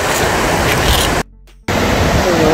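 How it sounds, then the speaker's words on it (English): Loud, steady rush of churning water filling a canal lock at Neptune's Staircase, Scotland, broken by a brief near-silent cut midway before the roar resumes just as strongly. "And the water is moving as well. Water is overflowing too."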